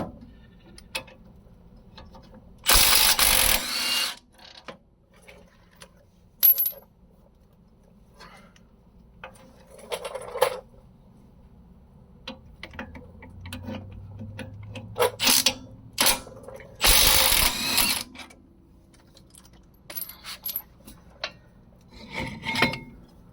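Tools clank and scrape in short bursts, with two loud harsh rasping stretches, while a brake caliper is pulled off a 2003 Dodge Ram during a brake job; quiet gaps separate the sharper knocks.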